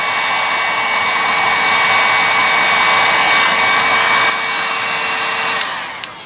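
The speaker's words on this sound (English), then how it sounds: "if you got it, you can just use a hair dryer" A hair dryer blows hot air onto metal being warmed for gun bluing, a loud, steady whirring drone close by that holds evenly before dropping slightly and cutting off near the end.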